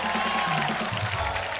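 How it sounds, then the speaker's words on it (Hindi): An audience in a television show studio applauds to welcome contestants, a dense steady wash of clapping and crowd noise throughout with music underneath. "जोरदार तालियों से स्वागत कीजिए इस हफ्ते की 4 मेम साहबों का"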